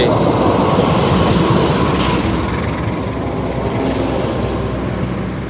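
Sembrani passenger train hauled by a CC206-series locomotive rolling into platform 3 at Jakarta's Gambir station, a loud, steady broadband rumble of wheels and engine that fades slightly as it passes close by.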